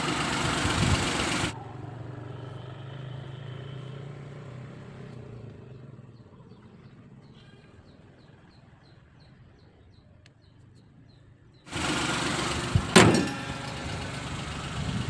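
A 2010 Maruti Alto LXi petrol car engine idles with a steady low hum, which drops to a quieter drone in the middle and returns louder near the end.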